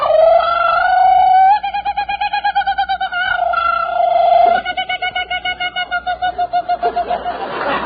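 A man imitates a kookaburra call, a loud, near, sustained warbling hoot that breaks into rapid rhythmic pulsing cackles and rises toward the end.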